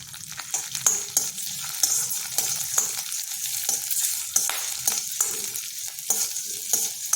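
Slit green chilies and ginger fry in hot oil for a ridge gourd curry, a bright continuous sizzle with repeated stirring scrapes and taps of a spoon against the pan.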